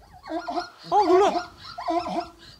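A dog gives three whining, bark-like cries in a dark forest at night. The cries are close and fairly loud, spaced apart with short pauses between them.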